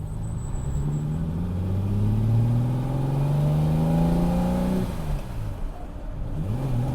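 A green Ferrari 330 GTC accelerates up through the gears, its engine note rising in steady sweeps, dropping at a shift, then climbing again, heard from inside the car.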